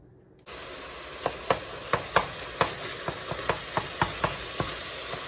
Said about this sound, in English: we're gonna put our hamburger patties in here, and I'm just gonna mash them up